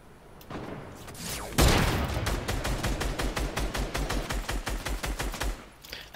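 Rapid automatic gunfire from a video game rattles in a long, evenly spaced burst after one heavy opening shot, loud and close.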